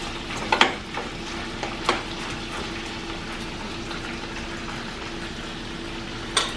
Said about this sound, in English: What you will do is just brown both sides of the meat